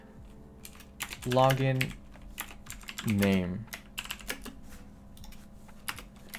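Rapid computer keyboard typing clatters steadily throughout at close range, with a person speaking briefly twice over the keystrokes while working through a programming exercise.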